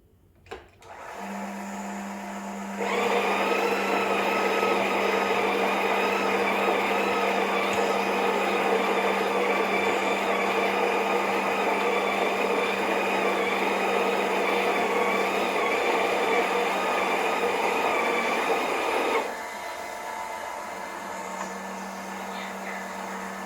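A coffee grinder feeding a Breville Dual Boiler BES920 espresso machine basket with 18 to 20 grams of coffee whirs loudly and steadily for about sixteen seconds, starting and stopping cleanly over a low background motor hum.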